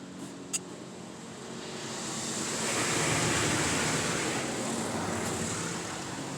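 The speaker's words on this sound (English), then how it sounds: "High pressure rinse." High-pressure rinse jets of an automatic PDQ Tandem SurfLine car wash spray steadily, a broad hissing wash of water that swells in the middle and stays constant, heard from inside the car.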